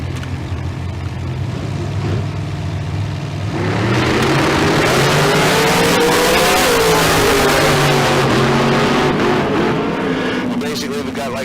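Dragster and bracket race car launching side by side down the Tucson Dragway strip, a loud engine roar that swells sharply after a quieter idle and holds strong to the end, with an announcer talking over it.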